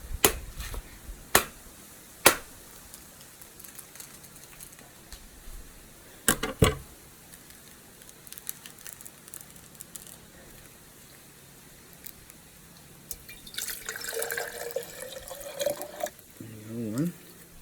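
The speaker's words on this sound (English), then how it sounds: "I'm just going to pop open these coconuts and pour the water in here" Coconuts are cracked open with a few sharp knocks, then coconut water pours and splashes into a container toward the end, faint and close with quiet background.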